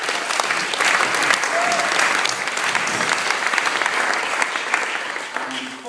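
Guests at a wedding reception applaud the bridesmaids during a best man speech, a dense, steady round of clapping from a crowd that holds for several seconds and tapers slightly at the end.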